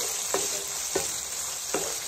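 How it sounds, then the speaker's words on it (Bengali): Prawns lightly frying in hot oil, a continuous loud sizzle with three evenly spaced stirring scrapes of a spatula against the pan. "হালকা করে ভেজে আমি তুলে নেবো।"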